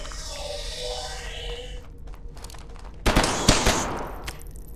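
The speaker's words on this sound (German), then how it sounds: "der Schuss da hinten war ein Glücksschuss" Gunfire in the video game Hidden Deep: a sudden burst of sharp shots cracking out in the second half after quieter ambient game sounds, fairly close and loud.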